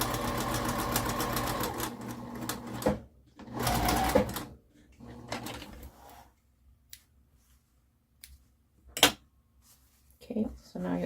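A sewing machine stitches a fabric cube pincushion, running in short near bursts of rapid mechanical whirring separated by pauses, with clicks and handling noises between runs and a person talking over parts of it.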